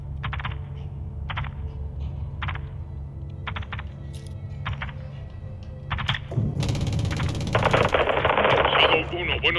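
Gunfire in the video game Call of Duty Modern Warfare 2, short bursts of rapid shots repeating at intervals, followed by a louder sustained burst of fire, with talk heard in the background.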